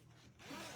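Zipper on a plastic storage bag being pulled open, a short soft rasping slide that grows louder toward the end, quiet and alone.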